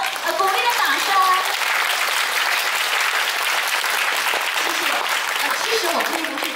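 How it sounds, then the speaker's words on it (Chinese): An audience applauds a school string orchestra at a primary school performance, sustained dense clapping from a crowd filling the whole stretch, with a voice briefly audible over it at the start. "我们给我们的弦乐团一个鼓励的掌声。"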